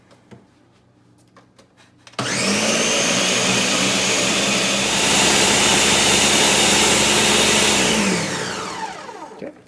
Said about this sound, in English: So I'm gonna keep this covered and we're gonna blend it.